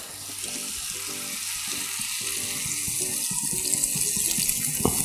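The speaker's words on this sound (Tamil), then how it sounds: "தென் இதில் நம்ம தண்ணி ஊற்றிக்கிறோம்." Water runs and splashes steadily into a pan of prawn sambar, with a hissing, bubbling sizzle building underneath.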